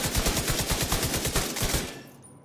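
An LMG in The Division 2 fires a sustained rapid burst of evenly spaced shots for about two seconds, loud and close, then cuts off into a brief fading tail.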